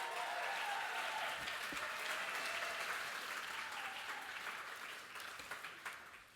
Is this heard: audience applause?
yes